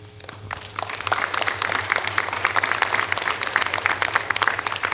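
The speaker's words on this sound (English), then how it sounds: "She was the one that we need to give our applause to." Applause from a camp gathering for the week's organizer, a dense wash of many hands clapping that swells after a quiet start and holds steady and fairly loud, with a low hum underneath.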